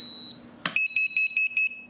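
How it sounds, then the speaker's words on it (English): An RC model's low-voltage alarm, plugged into the gear channel and used as a location buzzer, sounds a short click and then a rapid run of loud, shrill, close beeps. "Each time I cycle the switch, it beeps 3 times."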